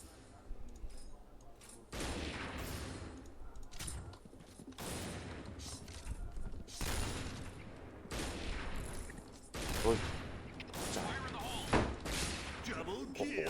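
Rapid, loud bursts of gunfire from a WA-2000 sniper rifle in the shooter game Point Blank, several sharp shots spaced a second or two apart, with a person talking between them.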